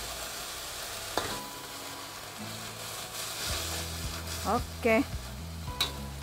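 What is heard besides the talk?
stir-frying pakis fern vegetable in a pan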